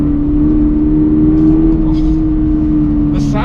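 Toyota GR86 sports car engine humming in a steady, even drone from inside the cabin, with someone talking over it throughout.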